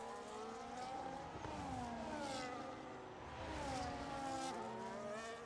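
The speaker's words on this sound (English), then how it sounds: "Rassam late braking, and that's a drift for Rassam." Cars from the F1 25 racing game at the Las Vegas Grand Prix, with a steady high-pitched engine whine that bends down and back up under late braking as a car drifts through a corner, continuous and close.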